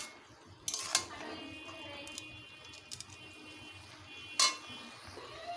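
A utensil stirs pumpkin leaves with turmeric in a pot, giving a few sparse metallic clinks and scrapes against a quiet background, faint and close, with no talk.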